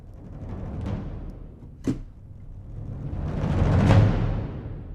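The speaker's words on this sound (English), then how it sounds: "I've pulled up the cinematic drums, which is a combination of the gran casa, tam tam, and the toms" Sampled cinematic drums from ProjectSam's Pandora library, combining gran casa, tam tam and toms, build a deep rumbling swell with one sharp hit midway, then a large shimmering crescendo that peaks and fades, played alone.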